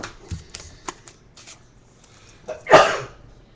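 A short, sharp sneeze rings out near the end, following a series of faint clicks and card-like shuffling sounds.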